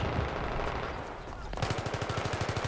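Rapid automatic gunfire rattles in Battlefield 3 multiplayer, with a muffled stretch followed by a clear, evenly paced burst of shots.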